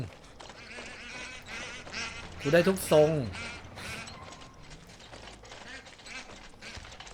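A few loud, nasal duck quacks burst out in a quick cluster midway, over steady background noise from the video game Far Cry 6 and ongoing talking.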